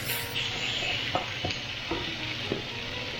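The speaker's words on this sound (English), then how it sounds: "Give it another stir." Chicken and steak fajitas sizzling loudly in a skillet, a dense steady hiss with a few spatula scrapes and taps as the meat is stirred, close up and with no voices.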